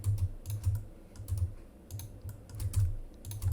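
Computer keyboard typing mixed with mouse clicks while working in 3D modeling software, heard as close, rapid bursts of key clatter separated by short pauses, with no talking.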